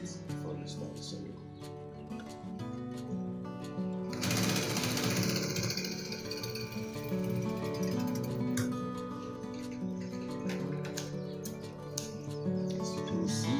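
A sewing machine stitches a shirt's label inner facing, with a rapid, dense mechanical whir that starts partway through and then runs steadily. Music plays underneath throughout.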